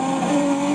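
Tires squeal in a continuous high screech as a car with no traction spins out during a street race, loud and close with engine noise underneath.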